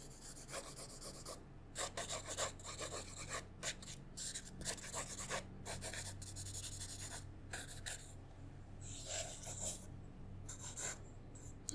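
A pencil scratches and rasps across paper in a quiet setting, drawing simple lines in short bursts of strokes separated by brief pauses, close and soft.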